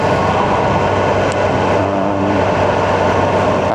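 A BMW S1000R naked motorcycle with a 165-horsepower engine drones steadily at close range during a ride, a loud continuous roar with rushing wind and no voices.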